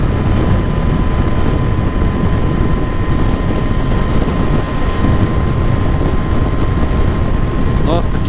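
A Royal Enfield motorcycle runs fast in sixth gear on the ride home, its engine a steady, unbroken drone buried under heavy rushing wind noise for the whole stretch.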